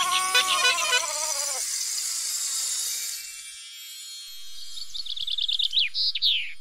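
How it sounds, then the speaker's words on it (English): Chirping bird calls, with a burst of bright, rapid tweets at the start and another series of quick, high chirps near the end, loud and close, and a quiet gap between them. "It's a bird. Tweet, tweet, says the bird."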